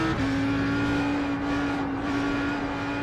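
Audi R8 GT3 race car driven at Bathurst in a racing game, its engine holding a steady, loud high-revving drone with a sustained tone and no talking over it.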